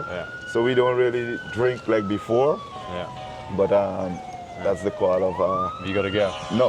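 A phone ringtone imitating a police siren wails continuously, gliding up and down, under close, steady conversation between people aboard a boat.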